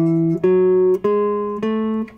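Four clear guitar notes step through a scale with even alternate picking, each ringing with a bright, sustained tone before the next pluck, close and alone.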